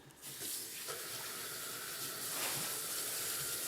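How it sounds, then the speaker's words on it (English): Water from a sink tap pours steadily while hands are rinsed under it, a close, even hiss with small splashing changes and no talking. "I'm going to rinse my hands off real quick."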